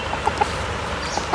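Fighting rooster clucking in a few short, sharp calls spaced over a moment, close by against a steady background hum.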